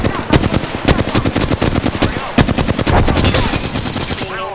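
Rapid bursts of machine gun fire in a video game crackle in dense, uneven volleys, loud and close, with a brief pause partway through before the shooting resumes.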